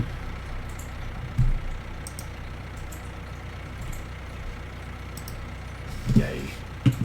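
A tractor engine idles at low, steady volume in Farming Simulator 19, a continuous low drone running through the whole stretch, with a couple of brief louder thumps partway through and near the end.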